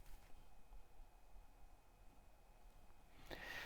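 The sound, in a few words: quiet room ambient noise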